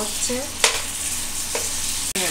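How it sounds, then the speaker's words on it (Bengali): Prawns frying in hot oil in a wok: a steady close sizzle with a few sharp spits and clatters of stirring, no voices. "চিংড়ি মাছটা ভাজার জন্যে আমি কড়াইতে তেল দিয়ে দিচ্ছি। চিংড়ি মাছটা দিয়ে দিলাম।"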